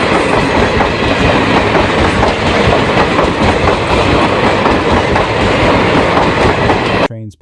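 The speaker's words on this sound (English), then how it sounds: "Trains passing every hour." Train rolling past on the rails up close, loud and steady with rhythmic clickety-clack from the wheels, cutting off abruptly at the end.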